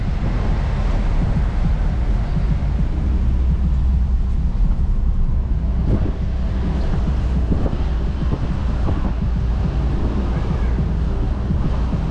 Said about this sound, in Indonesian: Oh, anginnya kencang.